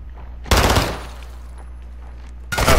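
Gunfire in the Call of Duty Modern Warfare 2 video game: two loud bursts of rapid automatic fire about two seconds apart, close and harsh, over a steady low game rumble.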